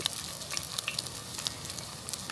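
Prawn toast sizzles and crackles in a hot pan at a beach campsite, a steady close frying hiss dotted with sharp pops and spits.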